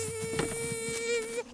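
Cartoon bees buzz with a steady, near, high-pitched drone that wavers slightly in tone, holding for over a second before cutting off abruptly.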